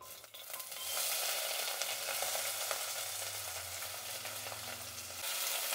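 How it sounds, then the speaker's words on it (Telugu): Onions frying in oil with cinnamon stick and cloves for a Nellore broken-rice pulao, giving a loud, steady sizzle that fills the whole stretch with only small dips, close up and with no voices. "ఇప్పుడు ఎర్రగడ్డలు వేసాం కదండి, ఇది బాగా వేయించుకోవాలి"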